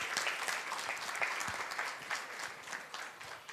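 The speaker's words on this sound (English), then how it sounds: "Big round of applause." Dense, steady applause from a summit audience at the 2015 SHEROES Summit, with many overlapping claps filling the room at a fairly even level throughout.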